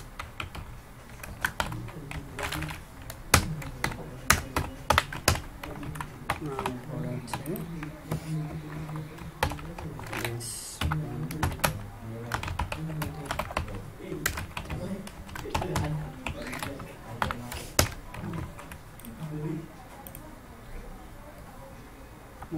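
Keys clack in quick irregular bursts on a computer keyboard during HTML coding, soft and close, while someone talks throughout.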